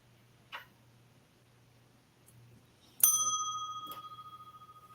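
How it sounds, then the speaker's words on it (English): A single bright bell ding rings out at once and decays with a shimmering tone over a couple of seconds, preceded and followed by faint small ticks and knocks in a quiet room. "You may also ring the bell."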